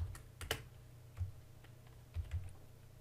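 Intermittent clicks of a computer keyboard while typing a component name in structural design software, a few isolated keystrokes and a quick pair near the end, quiet and close with no talking.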